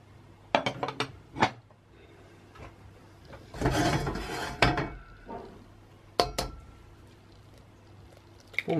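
An egg dropped into hot oil in a pan for Thai fried egg (kai dow), giving a sharp burst of crackling sizzle that swells and fades, with scattered clinks of utensils against the pan before and after.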